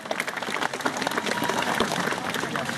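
An audience applauds at a cosplay prize awards ceremony at Närcon Summer 2014, a dense, steady patter of many hands clapping in a hall.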